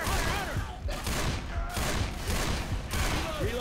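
Dense gunfire and chaotic combat noise in the video game Left 4 Dead 2, loud overlapping shots and booms filling the whole stretch with barely a pause.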